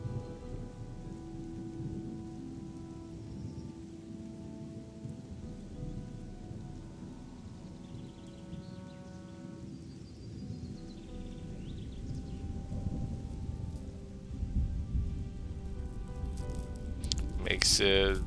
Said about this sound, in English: This rain's kind of thick.